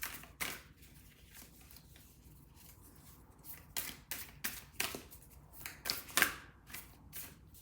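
Oracle cards being shuffled and drawn from a deck, with soft papery riffles and slides in short bursts, close and fairly quiet, with no talking.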